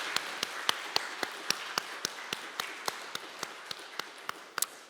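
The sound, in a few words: congregation applause in church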